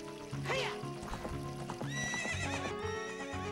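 Epona the horse in The Legend of Zelda: Ocarina of Time whinnies loudly and clip-clops at a gallop, mixed with background game music and a running-water sound.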